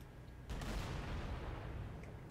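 Dense, loud burst of Halo CE Anniversary gunfire, likely a Warthog turret or rifle, firing continuously against a vehicle battle. It erupts suddenly after a short quieter lead-in and keeps up steadily for about two seconds, with no voices.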